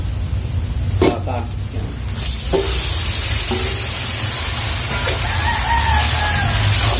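Marinated beef, about eight kilos, goes into a pan of browned onion, ginger and garlic and sets off a loud, continuous sizzle after a few clattering knocks, with crowing fowl faintly in the background.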